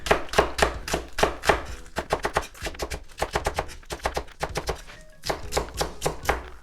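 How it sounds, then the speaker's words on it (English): A kitchen knife chops a scallion for ramen soup on a cutting board, in quick bursts of crisp, close taps with brief pauses between runs and no talking. "I'm going to first cut up the 1 scallion for the soup"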